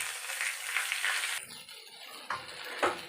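Salted, turmeric-coated eggplant pieces fry in hot oil in a pan, giving a loud, steady sizzle that briefly drops away and then returns with crackling bursts.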